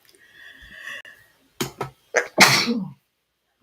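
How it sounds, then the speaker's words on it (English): A person inhales with a short whistling breath, then lets out a loud, close sneeze in a couple of sharp bursts. "First, I have to sneeze."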